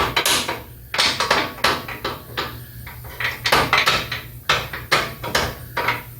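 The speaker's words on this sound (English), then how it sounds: "Take my aluminum hammer here and tap that bolt out." An aluminum hammer taps a bolt out of a 1977 Chevrolet Cheyenne C10, a dozen or so sharp metal strikes at an uneven rhythm, close by.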